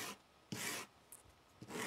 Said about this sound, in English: start sanding like that.